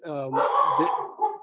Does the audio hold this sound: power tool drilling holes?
no